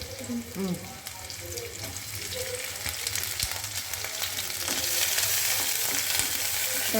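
Dried fish (shutki) fries in a pan with a steady sizzle that grows louder and brighter toward the end, mixed with occasional clatter of stirring.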